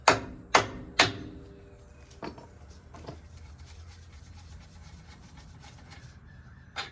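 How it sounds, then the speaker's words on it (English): Three sharp, loud hammer strikes ring out in quick succession, then two lighter taps follow before a quiet stretch of low background hum. "get you a little hammer, whack it a couple times, and it'll pop this free"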